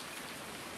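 Steady rain falls on a wet outdoor course, a faint, even, broadband hiss over a brief moment with no other sounds.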